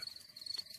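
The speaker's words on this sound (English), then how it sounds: "That is the sound of crickets chirping." Steady, high-pitched crickets chirping in a continuous trill, soft and somewhat distant, with a faint outdoor background.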